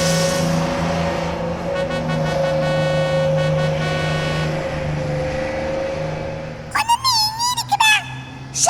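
A cartoon school bus drives along with a steady droning engine hum and tonal whine, then a burst of wavering high squeals near the end.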